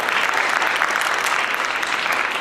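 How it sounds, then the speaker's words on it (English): Sustained audience applause for panelists at a national health insurance sector engagement, a dense, even roar of many hands clapping from a large hall crowd, loud and steady throughout. "A round of applause for our panelists."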